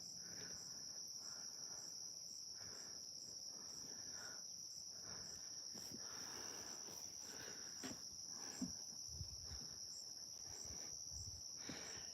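Evening crickets at a campsite near fishing water keep up an unbroken shrill trill for the whole stretch, quiet and steady, joined by faint low rustles and no voices.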